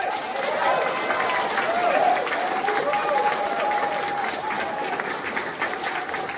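Crowd applause at a public event honoring government health partners, steady clapping with a tonal voice or cheer rising over it.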